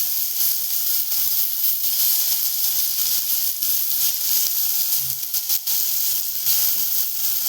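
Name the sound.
onion and tomato sautéing in a pan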